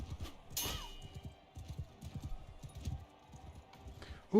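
Hoofbeats from a horse trot along in a medieval-style video game, an uneven run of muted clops with a sharp clash early on and a metallic ring at the end.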